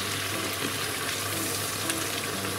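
Mirin poured into a pasta sauce of pasta cooking water and Japanese dashi simmering in a pan, giving a soft, steady bubbling sizzle close by with no talk.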